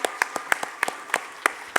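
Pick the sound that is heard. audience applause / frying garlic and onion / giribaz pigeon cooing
audience applause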